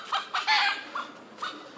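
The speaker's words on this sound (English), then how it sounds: "Hey! Chicken!" Chicken clucking at close range, a few short separate clucks followed by a longer run of squawking clucks, caught during an attempt to catch the bird.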